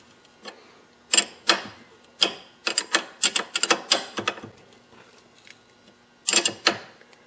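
Ratchet wrench tightening a tie rod end stud nut on a Chrysler 300M, a series of quick dry metallic clicks in short clustered bursts with pauses between, close and clear without talk.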